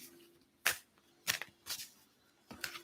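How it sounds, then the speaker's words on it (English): Deck of cards being shuffled by hand, four quick riffling bursts separated by short pauses, close and quiet against a faint steady hum. "I just have to shuffle them a bit."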